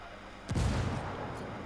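A frag grenade goes off in a video game firefight, one sudden heavy boom followed by a rumbling, decaying tail over the background noise of battle.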